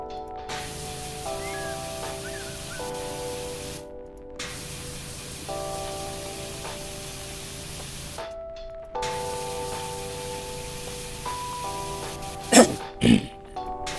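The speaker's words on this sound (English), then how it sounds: "Sorry, had to clear my throat." Two quick, sharp throat clears come near the end, cutting through a steady hiss and drone of pressure washing in the Powerwash Simulator game.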